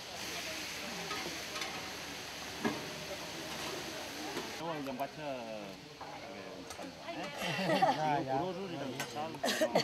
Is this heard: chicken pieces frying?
yes